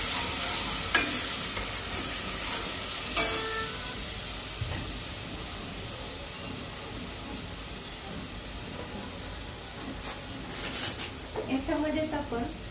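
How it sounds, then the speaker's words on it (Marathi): Oil frying in a pan while chole bhature ingredients cook, a steady sizzle and hiss throughout with occasional stirring scrapes and clinks, plus faint voices in the background. "याला फ्राय करा"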